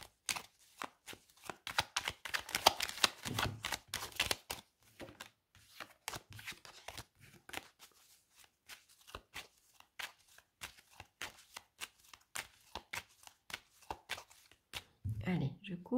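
A deck of oracle cards is shuffled and cut, making a rapid train of crisp riffling flicks and soft slaps that bunch together, thin out, then pick up again, with a voice briefly talking near the end.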